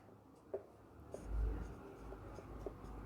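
A pen scratches out a Class 10 trigonometry solution by hand, with faint irregular strokes in a quiet room.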